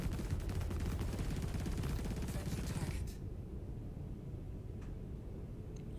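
Rapid ship weapons fire in the space game Star Citizen rattles as a dense, continuous stream of low thuds, then cuts off abruptly to quiet with a few faint later clicks.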